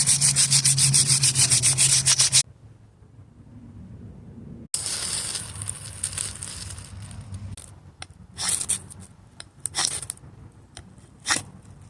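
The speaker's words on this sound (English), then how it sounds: "and now switch to a finer sandpaper" A ferro rod rubbed against finer sandpaper: steady rasping strokes loud and close at first, then after a pause a series of irregular, scratchier rubs and scrapes, with no talking.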